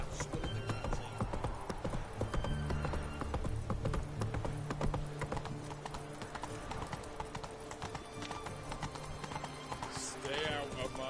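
Roach the horse gallops in The Witcher video game, a steady rapid clip-clop of hooves running throughout under game sounds, with a brief whinny and voices talking over it.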